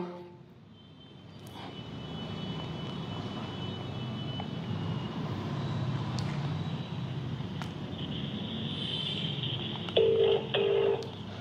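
Over a steady low background hum, a phone ringback tone sounds in two short beeps near the end.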